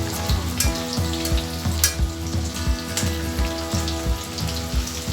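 Soya chunk curry seasoned with garam masala sizzles in a pan, with close, steady frying crackle and repeated rhythmic stirring knocks, and no voices.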